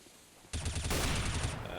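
An M4 rifle fires in a competitive shooter game, a sudden loud burst of rapid automatic gunfire that runs for about a second, close and alone with no talk over it.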